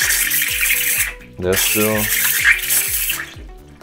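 A Bezzera Unica espresso machine purges hot water and steam in a loud, continuous hiss and splash, with a rapid pulsing pump throb underneath and someone talking briefly over it.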